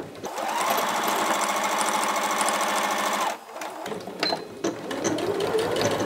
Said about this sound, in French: à la machine à coudre, on va uniquement travailler les ourlets pour l'instant